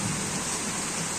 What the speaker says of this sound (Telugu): ఇంత వాన కొడుతుంది, విపరీతమైన వాన.